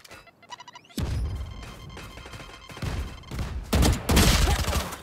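A grenade blast in Valorant, the tactical shooter, comes as sharp broadband bursts over busy game noise, with the loudest eruptions arriving near the end of the stretch.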